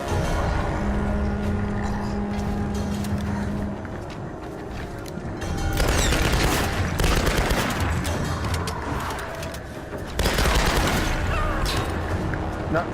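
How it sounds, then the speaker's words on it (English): Rapid gunfire fills a third-person action game as the player shoots a creature's back during a boss fight, with loud sustained bursts over a constant roar of game noise. "I have to shoot its back and do some quick time events."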